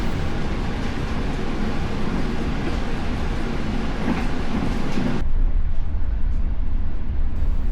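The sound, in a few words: KA Bangunkarta train running through Kemiri station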